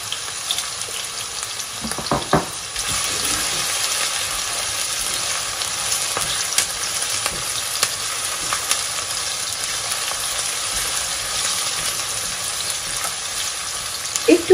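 Onions frying in a pan with garam masala, a steady mid-level sizzle that lasts throughout, with a few clinks early on and occasional scrapes from stirring.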